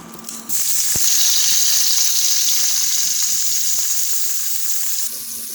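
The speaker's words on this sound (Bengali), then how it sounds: "চুলায় পেঁয়াজ দেওয়া হয়েছে" Onion hits hot oil in a pan on the stove, bursting into a loud, steady sizzle that continues close and bright with a few faint clinks, no voices.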